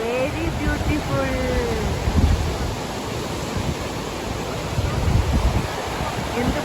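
Pykara waterfall roars in a dense, continuous rush of falling water, loud and close, with faint voices briefly audible beneath the steady noise.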